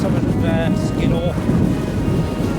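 Strong wind buffets the microphone on an exposed Lake District fell near Skiddaw, a loud low roar throughout, with a few faint whistling tones over it.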